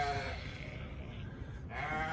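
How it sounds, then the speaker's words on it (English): Sheep bleating on a stormy evening during lambing season, two drawn-out calls at the start and end over a constant windy rumble, fairly close and clear. "Sheep are a little noisy,"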